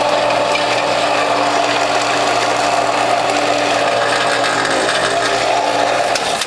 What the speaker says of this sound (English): I notice my motor's working hard again